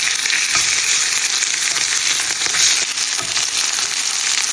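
Lamb chops fry in butter in a pan with a steady, loud sizzle and crackle that keeps going evenly the whole time, with no one talking over it.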